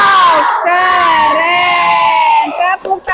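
A classroom of fifth-grade elementary pupils lets out a loud, sustained group cheer, a drawn-out collective shout that breaks off abruptly near the end.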